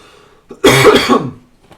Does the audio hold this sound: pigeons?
no